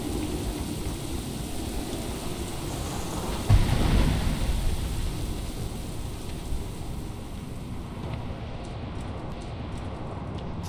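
A thunderstorm in World of Warcraft, with steady rain and a low rumble of thunder swelling midway before easing back to a continuous wash of storm noise.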